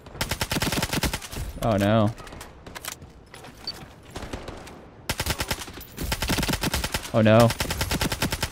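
Rapid bursts of SG550 automatic rifle fire in the shooter game Ironsight, loud and close, broken by short pauses, with a player's voice exclaiming in dismay over the shooting.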